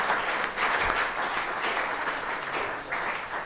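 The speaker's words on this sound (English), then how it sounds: "A quick round of applause for Dan in case he's watching." Audience applause at a sixth form prize giving, moderate clapping from a seated crowd in a hall, continuous and even throughout at a middling distance.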